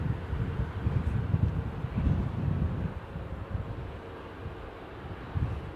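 Wind buffets an outdoor microphone at Heathrow Airport in a steady, loud low rumble of gusts in a direct headwind, with no other clear sounds.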